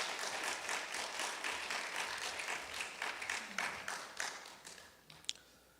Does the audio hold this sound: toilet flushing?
no